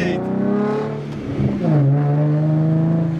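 A Mustang accelerates hard away from a roadside listener at a closed lot, its engine note climbing in pitch, briefly dropping at a gear change, then rising again as it pulls off. The engine is loud, with no voices.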